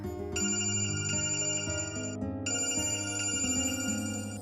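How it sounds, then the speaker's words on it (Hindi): A telephone rings with a steady electronic ringtone, its repeated tonal bursts loud and close, sounding alone without any voices. "अरे ये तो कल वाली आंटी का फोन है।"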